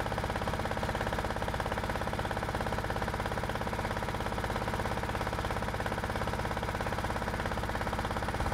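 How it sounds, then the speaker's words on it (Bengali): A river trawler boat's engine chugs steadily as the boat moves forward near a busy passenger-launch ghat, a continuous close rhythmic drone with no breaks. "এখন আমরা আমাদের ট্রলারটি সামনের দিকে যাচ্ছে।"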